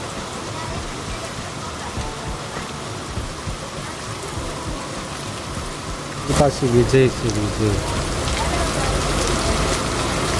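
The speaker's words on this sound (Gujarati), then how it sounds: "અને વરસાદ છે જોરદાર ચાલુ" Heavy monsoon rain pours steadily throughout, a dense unbroken hiss, with people talking over it and some brief tonal sounds partway through.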